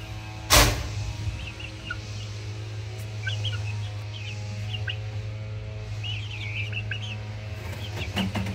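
Two-month-old McLean x Miner Blue gamefowl chicks give scattered soft clucks and high chirps over a steady low mechanical hum, with one sharp loud click near the start.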